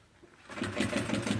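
Sewing machine backstitching on a bag strap, starting after a quiet half-second and running as a steady, rapid mechanical chatter with even stitch pulses, close and fairly loud.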